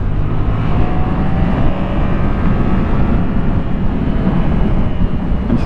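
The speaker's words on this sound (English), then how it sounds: "let's call it a 2019 MT07. I'm gonna go for a little test ride" A 2019 Yamaha MT-07 motorcycle on a test ride, its engine note rising beneath heavy, constant wind rush, loud and close with no speech.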